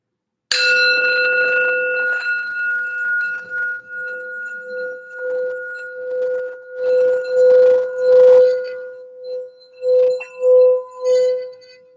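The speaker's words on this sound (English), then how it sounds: "let's do a quick sound bell just for some healing and grounding for the reading" A healing sound bell is struck once and rings out as a long, clear, sustained tone that slowly fades, then swells and pulses several more times as it keeps resonating, close and alone without talk.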